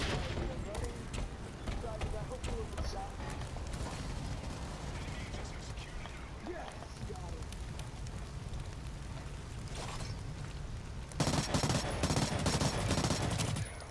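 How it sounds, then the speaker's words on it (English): Gunfire from a burst submachine gun in the shooter game Blacklight: Retribution comes as rapid, dense bursts over a constant background of game noise. The firing gets louder toward the end, and a player talks over part of it. "I don't know why I'm trying to kill them from far with a burst submachine gun."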